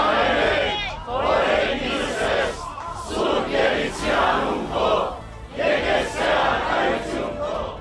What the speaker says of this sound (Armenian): Դատարանի շենքի մոտ հավաքված բազմաթիվ քաղաքացիներ ու հոգևորականներ ծափերով ու զորակցության վանկարկումներով են դիմավորել ամենայն հայոց կաթողիկոսին